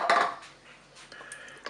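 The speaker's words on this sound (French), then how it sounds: "Je vais mettre ma petite boîte de tomates pelées." A small tin of peeled tomatoes is tipped into a Cookeo cooker pot holding shrimp and rice, giving a brief metallic clatter and scrape of can against pot, then quieter soft plops, with no talking.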